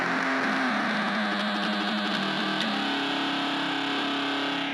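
A distorted guitar tone plays in a recording, a dense, fuzzy, sustained wash with a steady hum underneath, loud and continuous throughout.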